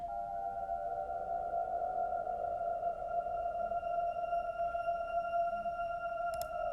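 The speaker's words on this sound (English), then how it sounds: "I've taken the Valhalla frequency echo and I've automated the delay time." Valhalla Freq Echo effect with its delay time automated, sustained sliding tones with a sonar-like, glassy ringing and a swooping pitch shift, steady and moderately quiet, with no voice.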